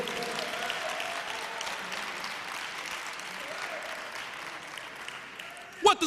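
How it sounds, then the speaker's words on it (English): Applause from a crowd at a political rally, sustained clapping that slowly thins out, with a voice cutting in near the end. "Give him a great round of applause."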